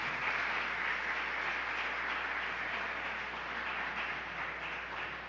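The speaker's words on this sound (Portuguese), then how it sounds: "Pode aplaudi-lo." Congregation applauding at a church sermon on the blood of Jesus, a steady, dense wash of clapping held at even loudness for several seconds, fairly distant and without speech.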